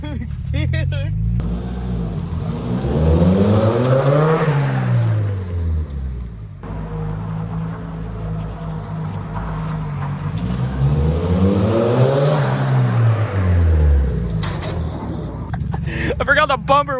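A budget turbocharged Mazda Miata with no power steering on a test drive, its engine rising twice in long pulls under boost, loud and close from inside the car, with excited talking over it.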